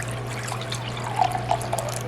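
Vinegar trickles and splashes as it is poured during canning of candied jalapeños, soft liquid dribbles with a few brighter splashes over a steady low background hum.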